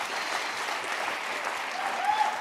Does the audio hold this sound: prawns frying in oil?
no